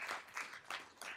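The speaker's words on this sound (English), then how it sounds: "give him a round of applause as well" A town board swearing-in ceremony audience applauding Mayor Mike Lavarada, a short burst of indoor clapping from a modest crowd, heard at a moderate distance.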